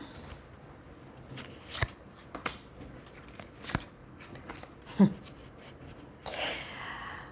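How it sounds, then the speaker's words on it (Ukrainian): Tarot cards are slapped down and slid one after another with soft papery rustles and occasional sharp taps, set against quiet room noise. "Я зараз всі карти викладу і проаналізую."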